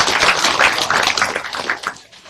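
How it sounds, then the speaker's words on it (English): An audience at a supply chain diversification workshop claps for the panelists, a close, dense burst of handclaps that fades out after about two seconds. "let's give our panelists a round of applause for their time"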